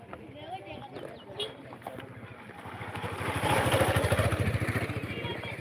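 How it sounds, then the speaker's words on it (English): A motorbike passes along a village road, its buzzing engine rising to a peak near the end with rapid pulsing, while people talk and call out over it. "That was a motorbike."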